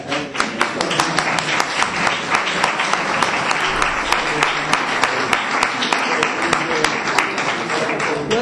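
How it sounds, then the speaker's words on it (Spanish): An audience at a book presentation on Gypsy anarchism claps loudly and steadily, dense sustained applause filling the room with sharp individual claps standing out. "un fuerte aplauso para la mujer"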